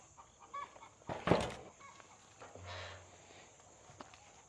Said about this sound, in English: the chickens sure are happy this morning